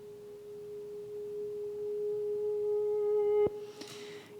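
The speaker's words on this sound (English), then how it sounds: "I took this last note and I've reversed it and I'm using it as a transition here." A single reversed guitar note swells steadily from quiet to loud as one sustained tone over faint hiss, then cuts off abruptly with a sharp click and a brief noisy tail.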